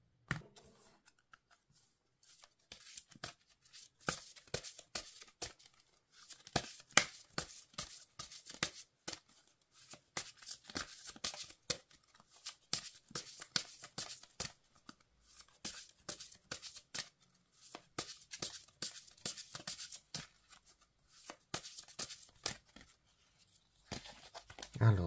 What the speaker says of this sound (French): on va battre les cartes et on va tirer un des messages